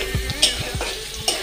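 Spices for aloo dum sputter and sizzle in hot oil in a pan, with a spoon stirring in repeated scraping strokes close up and no talk.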